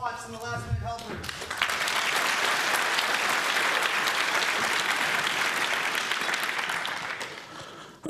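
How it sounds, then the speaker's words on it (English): An audience at a hacker conference breaks into sustained applause. Dense clapping fills the room for several seconds after a brief spoken line at the start. "Huge round of applause for Watts and the last minute helpers"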